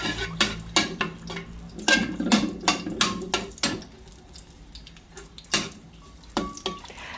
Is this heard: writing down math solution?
no